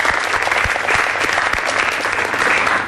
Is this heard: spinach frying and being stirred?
no